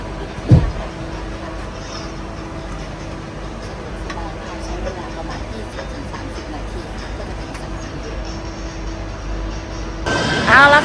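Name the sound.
inside a moving train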